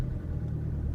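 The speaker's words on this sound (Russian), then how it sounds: "Заводим машину." A BMW 320d E90 with the N47 diesel engine runs low and rumbling on a cold morning, a steady close engine drone for about a second with no voices.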